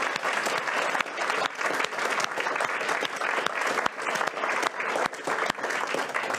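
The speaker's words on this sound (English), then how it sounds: "So can we give the academic people a round of applause" Sustained applause from a conference audience at the wrap-up of a net zero panel session, dense steady clapping filling the room without a break and with no speech over it.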